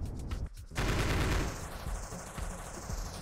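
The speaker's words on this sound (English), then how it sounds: "Oh, the plants sort of get smaller when I shoot them" Gunfire in the VR shooter game Blue Can Fly: a quick burst of rapid shots, then a rough wash of blasts and noise that fades under game ambience, with no talking.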